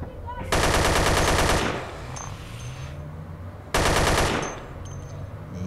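Automatic weapon fire in the Android shooter Dead Effect: two loud, close bursts of rapid gunfire, each about a second long, separated by a quieter stretch of game background sound.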